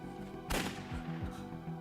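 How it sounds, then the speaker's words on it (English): Gunshot in the video game Emio - The Smiling Man, a single sharp blast heard at a moderate distance, followed by a few fainter echoing thumps over quiet ambience. "Another gunshot. That was a lot closer than before."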